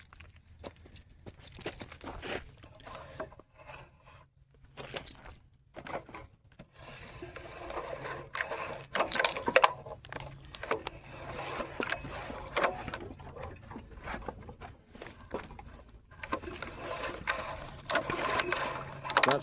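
An old small go-kart engine that has sat unused for about ten years is turned over by hand, giving close, irregular ratcheting, grinding mechanical clicks and scraping that continue throughout.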